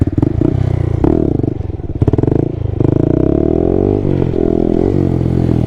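A Honda Grom motorcycle revs hard through a wheelie, its engine loud and close, rising and falling in pitch with rattling clatter and a few thumps between bursts of throttle.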